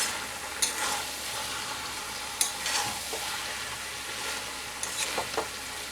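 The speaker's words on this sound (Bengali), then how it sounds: "এবার এটা আমি একটু কষিয়ে নেব ডালটা।" Dal fries and sizzles steadily in a pan for echorer dal, with occasional scrapes and clacks as a spoon stirs it, a soft constant hiss throughout.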